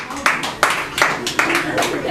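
At a story slam, a few distinct claps ring out in an even, spaced rhythm with short gaps between them, while people talk alongside.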